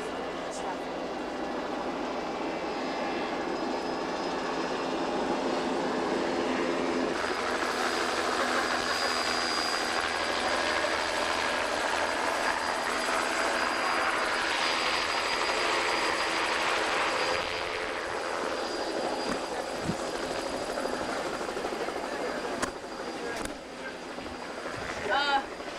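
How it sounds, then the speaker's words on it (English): Helicopter arriving at a synagogue bar mitzvah celebration, a steady broadband engine and rotor roar sustained throughout, fairly loud and continuous with a slight swell midway, with no talk over it. "God is arriving in a helicopter."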